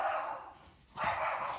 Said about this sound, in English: And the little barking starts.